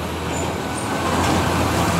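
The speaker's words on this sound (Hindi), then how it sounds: "ये जी एक कंटेनर लेके आ गई लोरी" A container lorry pulls into a yard with a low, continuous engine rumble and road noise, steady and fairly close throughout, with no talking.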